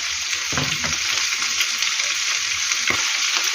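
Meat and chopped tomato are stirred in a hot pan, giving a steady close sizzle broken by a few soft scraping strokes, with no voices.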